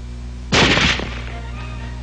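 A single loud burst of small-arms automatic weapon fire, a rapid cluster of sharp cracks lasting about half a second, then a decaying echo tail with a faint new onset at the very end.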